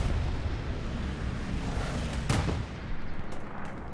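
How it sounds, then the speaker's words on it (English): Artillery fire in the Hell Let Loose warfare game, a loud, continuous rumble of distant explosions with one sharper blast near the middle, no talking. "Artillery mark goes down onto that tank there."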